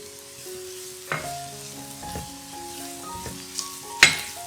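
White mushrooms sizzle and crackle as they are stir-fried in a pan, with scrapes and clinks from stirring now and then over the steady frying hiss.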